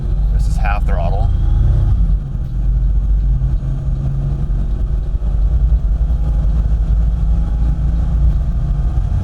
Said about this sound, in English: let's do a little bit half throttle right here